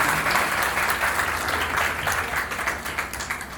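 Wedding guests applaud together at a church wedding ceremony, a steady, dense wash of clapping from a crowd that continues evenly throughout.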